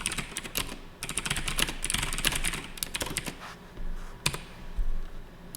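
Someone types on a computer keyboard while coding in Visual Studio, in quick irregular bursts of clicky keystrokes separated by short pauses. The typing is close and moderately quiet, with no speech.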